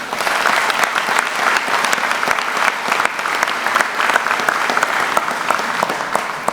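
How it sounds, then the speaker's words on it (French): Steady applause from an audience at a 2020 New Year's greetings ceremony, dense and sustained with many individual claps, holding at an even level throughout with no talk over it. "Je voudrais qu'on puisse l'applaudir."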